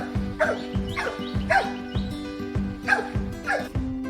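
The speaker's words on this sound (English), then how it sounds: "People who have reared dogs are familiar with the dog whine" A dog whining in repeated high, plaintive yelps, about one every half second, close and moderately loud over a low steady droning tone, with no one speaking.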